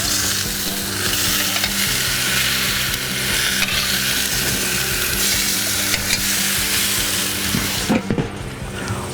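Ribeye steaks and potatoes sizzle steadily on grill grates, a continuous close frying crackle with a brief clatter near the end and no talk.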